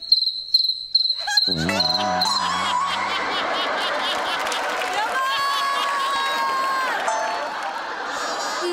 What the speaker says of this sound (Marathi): मगाशीच्या रातकिड्यांचा आवाज आहे महाराज